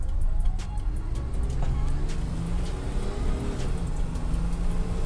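An old Mercedes G-Wagon engine pulls hard from inside the cabin, a steady low-pitched drone rising under the accelerating vehicle, with broadband road rumble and faint scattered clicks throughout.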